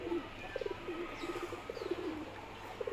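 A pigeon cooing, a soft throaty series of low coos repeating in short phrases, fairly faint against a quiet room background with no talk.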